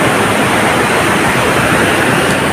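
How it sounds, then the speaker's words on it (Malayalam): The Chittur river in Palakkad rushes after heavy rain, a loud, steady, close roar of flowing water with no pauses and no voices. "ഇപ്പോൾ നല്ല മഴ പെയ്തുകൊണ്ട് നല്ലവണ്ണം വെള്ളം പോകുന്നുണ്ട്"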